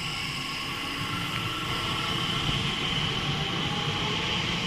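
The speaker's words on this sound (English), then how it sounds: "departing now is the 1104 TfL rail service to London Liverpool Street" A TfL Rail Class 321 electric train pulls away from Forest Gate station on the Great Eastern Main Line, a steady broadband rumble and hiss holding close and loud throughout, with a faint rising tone as it gathers speed.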